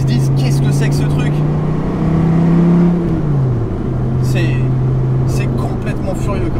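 An SRT Viper GTS engine drones loudly and rises in pitch as the car accelerates, then settles back to a steady cruise note, with someone talking over it close by.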